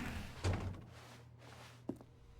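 A door in the video game The Stanley Parable, heard as a soft, low thunk near the start followed by a brief sharper knock later, faint and alone against a quiet background hum.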